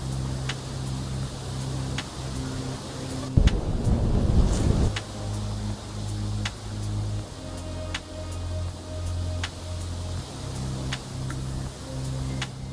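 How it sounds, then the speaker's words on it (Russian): Strong cyclone wind buffets the microphone during an outdoor run in March, a continuous roar with a heavy gust burst, loud and close throughout. "сегодня сильнейший ветер"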